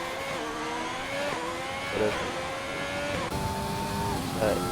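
A race car in an Xbox racing game rounds the final corner of the Dutch Grand Prix in a league race, its engine whine repeatedly rising and dropping through gear changes at moderate loudness.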